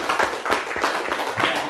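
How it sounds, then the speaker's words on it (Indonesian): Classroom students clapping for a classmate, a brief burst of quick, uneven hand claps from a small group. "Bagus, kasih tepuk tangan."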